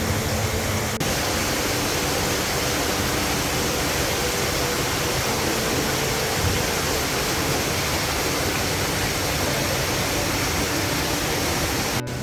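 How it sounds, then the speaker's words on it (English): Water runs steadily over the rail tracks inside an old gold mine tunnel, a continuous broadband rush like a small stream, close and even throughout with no voices. "we've got water flowing across these rails and all in here"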